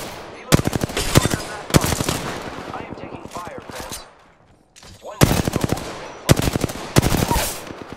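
Apex Legends gunfire in loud, rapid automatic bursts, two dense volleys separated by a brief lull of scattered shots, with a short near-silent gap before the firing resumes.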